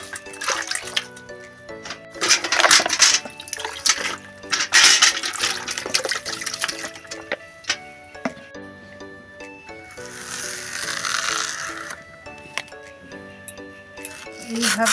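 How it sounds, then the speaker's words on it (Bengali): Arum stalks are washed in a bucket of water, with splashing, sloshing bursts and clinks of handling, while a person talks throughout. "আমি আগে বালতির জলে ধুয়ে নিচ্ছি দেখুন এটা গোটাই ধুয়ে নিতে হবে"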